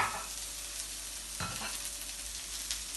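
Chopped onions sauté in a pan for Jamaican ackee and saltfish, giving off a soft, even frying hiss with a single clank of a utensil partway through.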